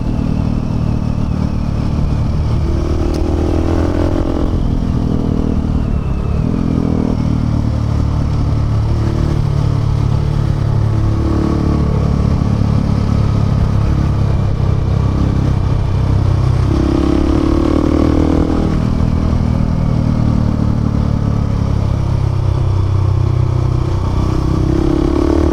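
A 2019 KTM 690 and a Honda Africa Twin ride along dirt roads, their engines droning loud and continuous with shifting revs and wind buffeting throughout.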